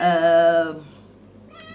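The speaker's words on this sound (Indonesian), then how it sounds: "Ini ada yang mau ngeong-ngeong nih." A cat gives one clear, drawn-out meow up close, followed by quiet room noise and a brief faint sound near the end.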